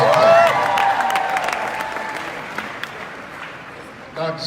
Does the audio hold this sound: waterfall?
no